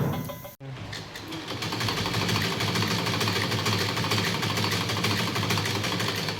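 Sewing machine stitching clothes at home, a steady continuous mechanical whir that starts after a brief pause and runs loud and close with no talking.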